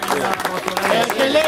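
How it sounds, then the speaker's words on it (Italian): A small gathering at an Italian football club, Atletico Castenaso, claps in a brief burst of applause, with voices talking over the clapping. "applauso a Eros"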